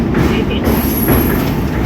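An Amrit Bharat Express rolls slowly across the Penna river bridge near Nellore, heard from on board as a loud, steady rumble of wheels on rails with faint squeals.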